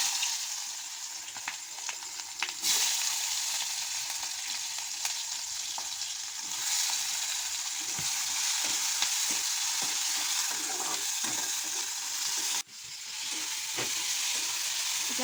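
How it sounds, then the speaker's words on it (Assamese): Onions and chilies frying in hot oil in a pan, a loud, continuous close sizzle with scattered crackles and stirring scrapes, briefly dipping near the end before resuming. "এতিয়া এইখিনি থৈ মই দিম এতিয়া পিঁয়াজ আৰু জলকীয়াখিনি।"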